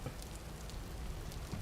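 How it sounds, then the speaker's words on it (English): Steady rain falls in the video game Vintage Story, a soft, even patter of drops on surfaces, faint and continuous with no voices. "Hey, look, it's still raining."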